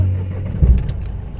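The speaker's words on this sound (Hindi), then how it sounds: "सबसे पहले तो हम हमारी गाड़ी को ऑन कर लेते हैं।" A car engine turning over and catching, a brief low churn followed by a short mid-pitched burst, heard up close in a quick fragment.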